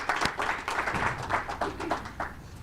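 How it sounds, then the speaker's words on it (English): An audience gives a short round of applause for a student clean-tech capstone project team in Pittsburgh, a loose spread of distinct claps that rises and thins out over a few seconds. "just a round of applause"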